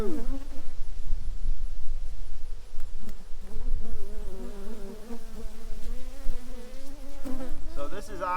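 Honey bees swarm and buzz around the opened double deep brood box of a strong second-year hive, a loud, dense drone whose pitch wavers and shifts as individual bees pass close, with faint handling noises.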